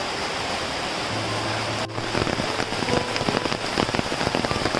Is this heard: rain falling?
yes